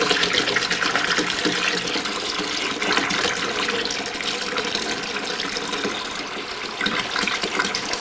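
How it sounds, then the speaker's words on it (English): A gallon of water poured into a homemade sugar-and-corn moonshine mash, a steady, continuous splashing rush of liquid that runs close and fairly loud for the whole stretch with no talking over it. "We'll put another gallon of water in it"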